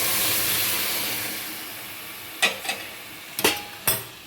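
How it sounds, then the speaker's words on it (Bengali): Cooked curry goes into a pan of fried prawns, producing a broad steamy hiss that slowly fades, followed by several sharp clatters and scrapes of stirring near the end. "এবার আমি তরকারিটা ঢেলে দিয়ে দেবো"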